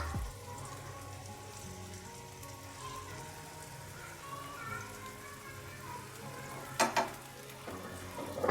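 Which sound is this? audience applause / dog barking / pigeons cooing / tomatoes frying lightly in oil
tomatoes frying lightly in oil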